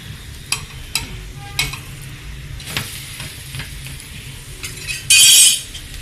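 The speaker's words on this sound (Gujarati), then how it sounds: "હવે આપણે ફેરવી લેશું પુડલાને" Rice and semolina pudla turned over in a pan, a low steady sizzle of frying under scattered clinks and scrapes of a spatula, with a brief louder hissing burst near the end.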